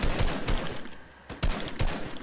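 Rapid bursts of SMG gunfire in Fortnite, loud and close, firing in several quick volleys with brief pauses between them and no talking.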